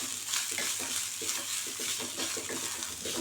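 Small onions and a piece of coconut fry in a pan for village-style sambar, with a soft steady sizzle under repeated, rhythmic stirring strokes of a spoon, quiet and close with no talking.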